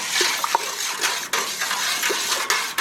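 Running water rinses dye powder out of a cup with a steady splashing flow and a few small clinks and drips, close and continuous.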